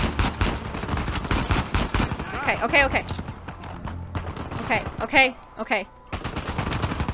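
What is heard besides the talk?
gunfire shooting at player in Uncharted 4 video game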